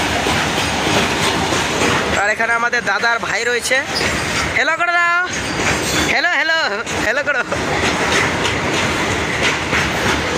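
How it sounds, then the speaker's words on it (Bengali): A train rolls past near a railway station close to a colony, with loud continuous rumble and rhythmic clickety-clack of wheels throughout and some brief squeals, while people talk over it. "ফাইনালি গাইস ট্রেনটি গেল। এবার দেখতে পাচ্ছ ট্রেনটি চলে গেছে গাইস।"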